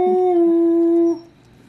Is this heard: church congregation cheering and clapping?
no